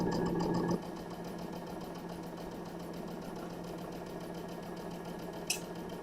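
A sewing machine stitching steadily in a sewing room, a constant fast mechanical whir and needle clatter that runs throughout, briefly louder at the start, with a small click near the end.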